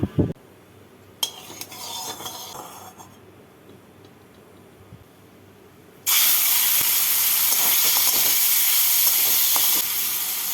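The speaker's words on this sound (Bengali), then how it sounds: "কড়াইতে অল্প সর্ষের তেল দিয়ে মাছগুলোকে প্রথমে ভেজে তুলে নেব" A few clanks of cookware, then a loud, steady hiss of fish frying in a little mustard oil in a wok bursts in and continues without pause.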